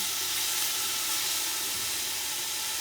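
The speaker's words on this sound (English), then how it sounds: "Can you hear the sizzle? That's what you want." Steady broadband sizzle of onions frying in a pan, a constant close hiss with no talking.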